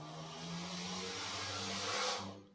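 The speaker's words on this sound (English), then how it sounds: "that was a car driving by outside" A car passes outside, heard faintly as a steady rushing engine and tyre noise that swells and then drops away as it goes by.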